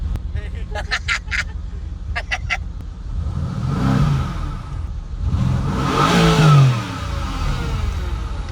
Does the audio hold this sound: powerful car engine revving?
yes